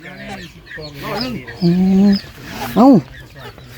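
Chickens kept at a rural home give drawn-out, tonal clucks in two loud bursts close by, mixed with people talking.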